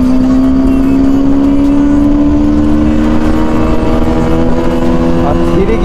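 A TVS Apache RTR 310 motorcycle accelerating through its gears, its engine a loud, close, sustained drone that climbs steadily in pitch, with a voice talking over it.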